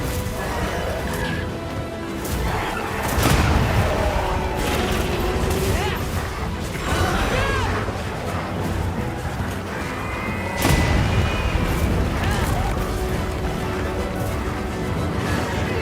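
Weapon strikes and effects from the Monster Hunter Wilds open beta form a dense, continuous mix of clashing hits and booms with repeated sharp impacts. In-game voices and background noise run through it, at times louder than the weapons.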